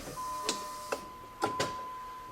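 The fuel pump on a 2002 Dodge Ram 1500 with a swapped-in 4.7L engine is primed. A thin steady whine runs under several sharp clicks spaced about a second apart, fairly close and moderately loud.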